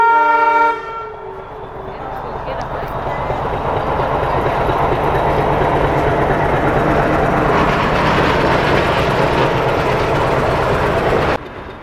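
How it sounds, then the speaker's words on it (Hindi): A meter gauge passenger train passes at a crossing station, its horn sounding briefly at the start before a loud, steady rumble of rolling wagons that builds and holds close by, then cuts off abruptly. "यहाँ पे हमारी क्रॉसिंग होती है मैलानी से आने वाली मीटर गेज पैसेंजर ट्रेन से, जो बहराइच की तरफ जा रही"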